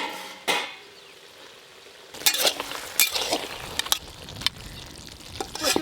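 A lid clinks off a pot of taro stolons cooking with a fish head in a home kitchen, followed by sharp metallic clicks and a low sizzle and bubbling close by.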